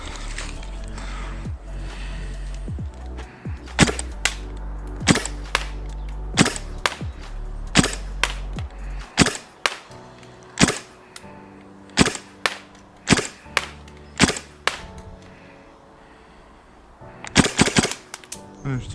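A GHK Steyr AUG A2 airsoft gas blowback rifle fires a long string of sharp single shots at an uneven pace, loud and close, with a quick burst near the end and brief voices between shots.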